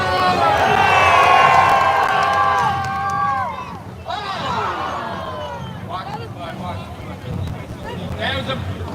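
A loud crowd shouts and cheers together at Universal Studios Hollywood on the Fourth of July, with whoops and voices rising and falling, lively and close.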